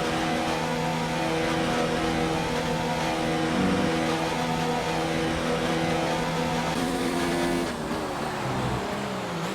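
Several racing cars in a video game at Spa-Francorchamps howl together in a pack, engines rising and falling through gear changes, loud and steady for the whole stretch with a brief shift in pitch near the end.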